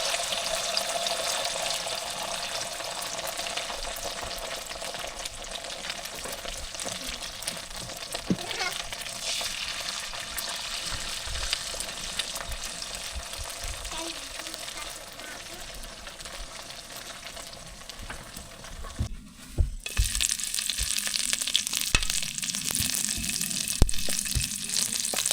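An egg fries in oil left over from frying bananas, giving a continuous close sizzle with scattered crackles and stirring scrapes, while water runs from a tap in the background and a voice speaks briefly.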